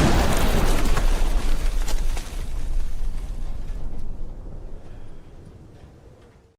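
A minefield blast goes off in the animated show Primal. A loud, broad, rumbling explosion hits at once and then slowly decays over several seconds, with debris crackle fading into quieter noise.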